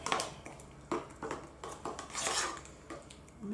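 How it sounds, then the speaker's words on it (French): A spoon stirs porridge with compote in a bowl, clinking and scraping against the dish in repeated uneven strokes, close and fairly loud, with no talking. "On mélange bien."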